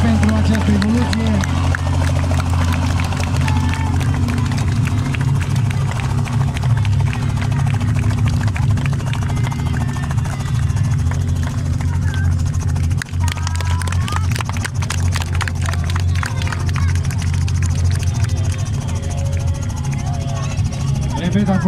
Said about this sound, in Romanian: a fost un elicopter N-44 Robinson